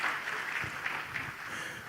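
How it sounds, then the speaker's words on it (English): A conference audience at a trade and investment forum applauds after a speech, a faint, even wash of clapping heard from a distance with no voices over it. "let's give a louder round of applause for that speech"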